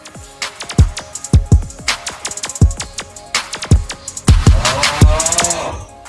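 A programmed drum pattern for yandere-style music production, with punchy kick and clap hits in a steady repeating groove. The hits are loud and upfront, with bright percussive accents layered on top.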